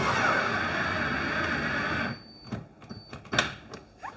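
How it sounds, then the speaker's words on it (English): Screws go into a kitchen cabinet hinge: a steady, fairly loud mechanical whir runs for about two seconds, then cuts to quiet with a handful of sharp clicks and taps. "I'll start off by putting my top two screws in first."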